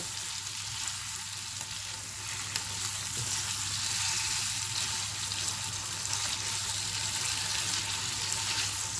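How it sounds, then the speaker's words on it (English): Black pepper chicken, an Awadhi starter, fries in a pan over a high flame with a continuous, even sizzle and a low hum underneath and no speech. "Give it a mix on high flame."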